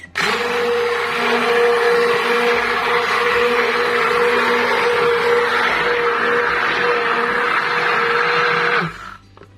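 An electric mixer whirs loudly and steadily for several seconds, whisking a wetting agent mixture made with cooking oil, a constant motor whine, then cuts off abruptly near the end.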